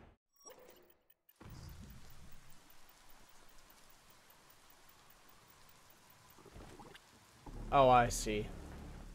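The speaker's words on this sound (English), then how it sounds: "Did you hear thunder?" Rain patters steadily in the video game Biomutant, with a low rumble of thunder, a brief sharp burst near the end and a player speaking briefly over the game sound.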